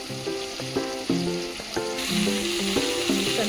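Green chillies sizzle steadily in a hot pan of oil while murmura uggani is prepared. The frying is a continuous crackling hiss, with a tonal melody running underneath.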